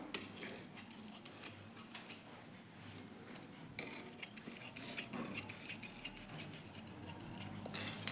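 Scissors snip through blouse fabric in a steady run of small, close, crisp cuts and clicks, fairly quiet throughout.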